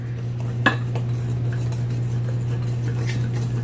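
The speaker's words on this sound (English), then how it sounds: "we're just going to just mix all of these together till they're combined" Chocolate cake batter with fresh milled flour and cocoa being stirred in a bowl, soft scraping and occasional utensil clinks against the dish over a steady low hum.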